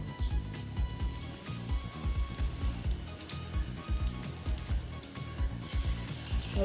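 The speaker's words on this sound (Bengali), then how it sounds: "এখন দেখো মোটামুটি তেলটা গরম হয়ে গেছে এখন আমি ঝিঙেগুলো সব দিয়ে দিচ্ছি" Ridge gourd pieces fry in hot oil with a steady, close sizzle, broken by soft rhythmic stirring and scraping in the pan.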